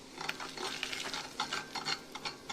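Phirni ingredients lightly roasted in a pan, with a close, soft sizzle and rapid scraping stir strokes in quick succession throughout, with no talk.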